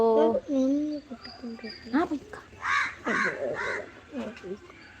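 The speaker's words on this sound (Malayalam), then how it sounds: "ഇതാ നമ്മളെ കാക്ക നമ്മളെപ്പോഴും ഇങ്ങോട്ട് വിളിച്ചാൽ വരുന്ന കാക്ക" Several harsh crow caws ring out close by in uneven bursts, mixed with a person talking.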